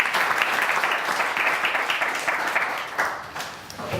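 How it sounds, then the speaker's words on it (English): An audience at a Startup Grind Vilnius event applauds to welcome a speaker from Wix, a full, even wash of clapping that holds for several seconds before thinning out near the end. "Nice round of applause"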